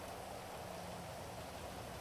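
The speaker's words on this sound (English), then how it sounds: "it's such a terrible day for rain" Rain in the video game GTA, on a NoPixel roleplay server, falls as a faint, even hiss of pattering drops, steady and unbroken over about two seconds.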